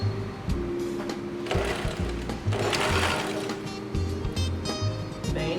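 A domestic sewing machine runs in bursts, stitching a hem channel on fabric for threading elastic, its close, loud mechanical whir starting and stopping several times with brief pauses between runs.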